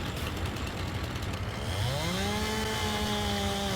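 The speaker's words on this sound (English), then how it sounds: "I wonder why the chainsaw does that sometimes, where it goes way big, even though the log isn't nearly that big." A chainsaw cuts through a log in Farming Simulator 22, holding a steady loud buzzing drone that rises sharply in pitch midway as the engine revs up and keeps screaming under load.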